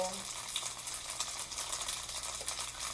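Hot oil crackles and pops in a frying pan while breakfast cooks, a dense continuous sizzle with sharp irregular spits throughout, close and fairly loud.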